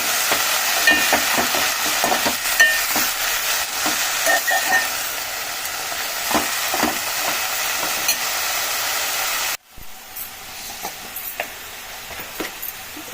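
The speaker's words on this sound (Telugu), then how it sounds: "నేనేం తాలింపు పెట్టానండి, ఆయిల్ చాలా వేస్తాను" Tempering fries in plenty of oil alongside mint leaves, a close, steady crackling sizzle dotted with small pops and stirring sounds that later cuts to a quieter, softer sizzle.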